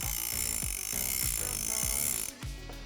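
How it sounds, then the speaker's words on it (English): A Shimano Ocea Jigger LD fishing reel wound with the spool lock on gives a loud, rhythmic ratcheting click, with repeated mechanical pulses over a bright whirring hum that stops abruptly near the end. "when the spool lock is on, the reel will start making a very loud ratcheting noise"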